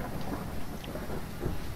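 Low rolling thunder rumbles steadily through a stormy scene in the horror game Phasmophobia, a dense, continuous roar with a faint rain-like hiss over it and no voices.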